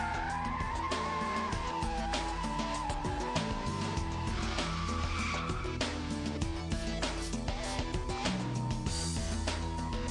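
A BMW Z3 M Roadster power-slides in a wide circle, its engine revving hard under continuous tire squeal that rises and shifts in pitch, loud and close with no talk.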